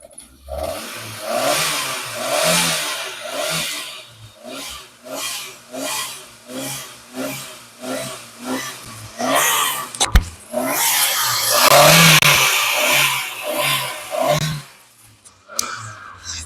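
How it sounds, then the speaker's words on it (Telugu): A 2007 Hyundai Santro petrol engine is revved repeatedly, a series of rhythmic rising-and-falling pulses, followed by a longer, louder sustained rev close by. "ఇంజిన్ అయితే స్టార్ట్ చేశాను పెట్రోల్ ఇంజిన్ కాబట్టి చాలా స్మూత్ గా ఉంటుందండి సౌండ్ కూడా ఎక్కువ వినిపించదు రేస్ చేస్తాను"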